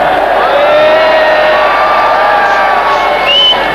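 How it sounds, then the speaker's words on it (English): A cricket crowd at a Faisalabad Test against India in 1989 voices loud disapproval of an LBW appeal, a sustained roar of jeers and whistles that fills the whole stretch at full volume. "Disapproval from the crowd for that appeal."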